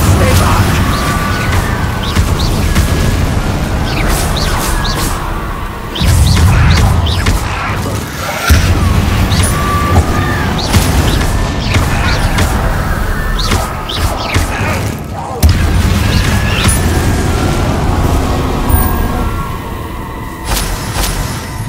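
Fire spells Confringo and Incendio explode during Hogwarts Legacy combat, with repeated loud bursts, booms and crashes over a dense, busy game soundscape, and voices present among the blasts.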